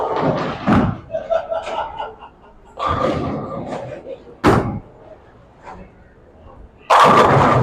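Bowling ball rolling down the lane and crashing into the pins at a bowling alley championship match, several sharp loud pin impacts and thumps with quieter rumble between, talk in places.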